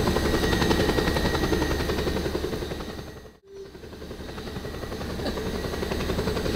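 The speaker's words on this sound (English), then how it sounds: "Check that helicopter." A helicopter in the video game Just Cause 2 drones with a steady, loud rotor and engine roar, cut briefly by a short gap midway.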